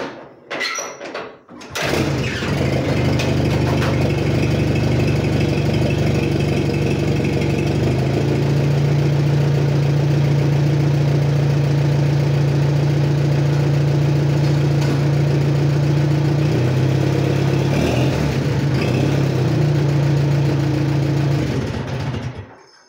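A 1939 Allis Chalmers B tractor engine cranks, catches and settles into a loud, steady chugging idle that runs on, with a brief revving change partway through.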